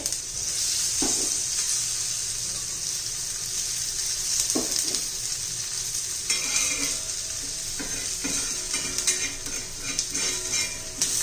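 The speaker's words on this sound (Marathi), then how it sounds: "छान असा खरपूस आपण भाजून घेऊया" Alu vadi, colocasia leaf rolls, shallow fry crisp in oil with a continuous close sizzle, broken by a few scrapes and clinks of a spatula against the pan.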